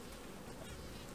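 A steady, dense buzz of worker bees fills the whole moment, close and continuous with no pauses, many bees droning together.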